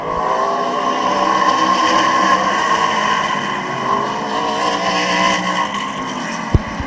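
Race cars at Midvale Speedway pulling away on a green-flag restart, a loud layered roar of several engines droning and shifting together, continuous and near, with a sharp knock near the end.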